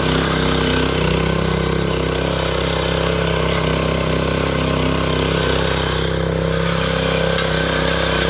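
A Bolat rotary tiller's small engine roars at full throttle, a loud, steady, buzzing drone held close and unbroken throughout.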